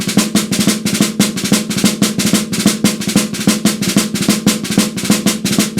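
Snare drum played open, repeating double drag taps on a quintuplet grid in French military style, a dense, loud, continuous stream of crisp rolls and accented taps with an even marching pulse.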